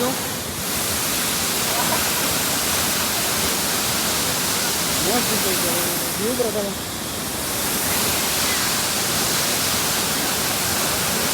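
Waterfall at Phurli Jharan in Odisha, a loud continuous broadband roar of falling water filling the whole clip, with a voice speaking briefly beneath it.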